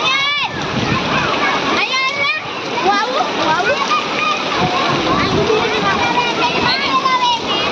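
Continuous splashing and sloshing as people wade through waist-deep floodwater on a road in Surat, with children's and adults' voices chattering and calling over it throughout, busy and close.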